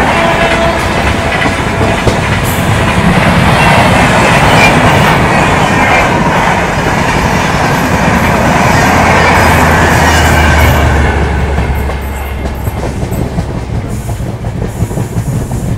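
The Pune Amravati Express rolls along the rails, a loud continuous rumble with rhythmic clickety-clack of wheels over joints and a low steady hum, heard up close from on board.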